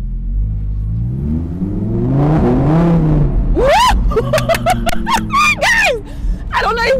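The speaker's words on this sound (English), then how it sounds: "The car was drifting." A Lamborghini Huracan EVO's engine revs and roars while drifting, a rising rumble that breaks into sharp, wavering pitch swings and squeals, loud and close, with talk over it.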